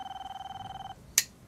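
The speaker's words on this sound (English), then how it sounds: "A moment later, the phone rang again." A telephone rings with a fast electronic trill lasting about a second, then cuts off, followed by a brief sharp click like a handset being picked up, fairly faint and close.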